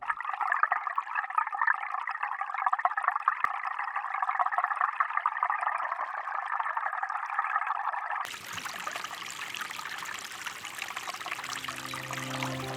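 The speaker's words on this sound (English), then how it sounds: "Here is a short snippet from the creek." Creek water captured underwater by a CJOSSUL hydrophone gives a steady, soft burbling trickle that runs continuously, then shifts abruptly partway through to a rougher, broader wash.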